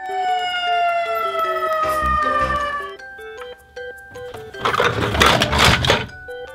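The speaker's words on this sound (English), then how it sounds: "Red fire engine." A red toy-style fire engine siren sounds as electronic wailing tones sliding downward with repeated beeping pulses, followed by a brief noisy burst, all loud and close.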